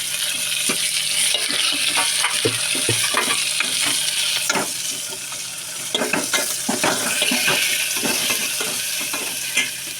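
Long-sliced onions dropped into hot tempering oil for tomato pepper rasam, a crackling sizzle with repeated stirring scrapes and light clinks of a spoon against the pan, close and continuous.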